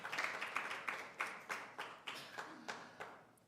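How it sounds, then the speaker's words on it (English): A small audience at a student symposium claps in a sparse, uneven rhythm, with about ten distinct hand-clap bursts close by and no talking. "Can we give them another final round of applause"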